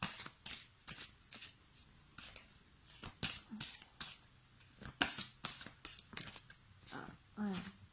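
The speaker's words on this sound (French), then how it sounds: "mais je préfère les mélanger encore." Tarot cards are shuffled by hand in a quiet room, giving repeated crisp riffling bursts in an uneven rhythm, close and moderately loud, with someone speaking briefly between shuffles.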